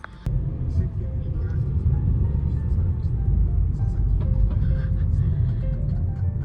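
A car drives along a road in Japan on a short trip to an AEON mall, giving a steady, close low rumble of engine and road noise that runs unbroken throughout, with faint voices now and then.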